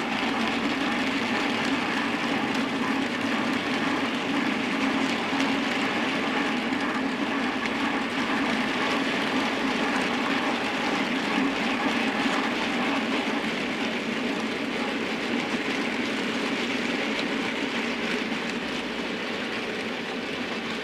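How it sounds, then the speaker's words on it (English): A cattle train running from Carlisle to Oxley passes Dent station, a steady, broad rumble and rush of wagons that holds at the same loudness throughout, with no voices. "The next train is the 7:15 Carlisle to Oxley cattle train."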